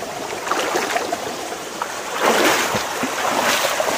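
Water crashes down continuously at Palakondallu waterfalls in Kadapa, a dense, full roar that swells slightly midway and never lets up.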